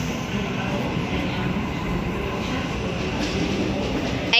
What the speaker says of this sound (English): The train on platform 19 Just goes departed.